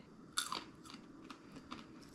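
A crunchy rehydrated pea from a jar-packed instant meal is bitten with one sharp, close crunch, followed by a few quieter chewing sounds.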